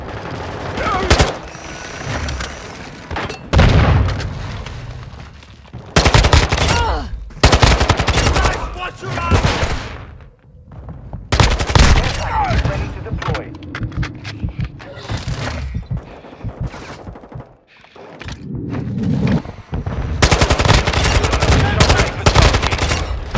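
Rapid gunfire from a golden Desert Eagle in the shooter game Modern Warfare II, loud repeated bursts of shots with in-game voices and radio callouts between them.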